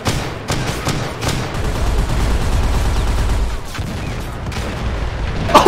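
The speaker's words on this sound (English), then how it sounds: "That's a grenade! Grenade!" Grenade blasts and gunfire in an Arma 3 Warhammer 40K trench battle: dense, loud, continuous rumble punctuated by sharp cracks and booms, no clear voices.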